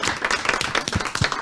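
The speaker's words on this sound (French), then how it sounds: "vraiment t'applaudir et te remercier chaleureusement" Audience applause at a French community-centre meeting honouring two years of mobile social centre work, dense clapping filling the short stretch at a steady moderate level, with no voices standing out.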